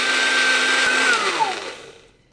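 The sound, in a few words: electric blender blending ingredients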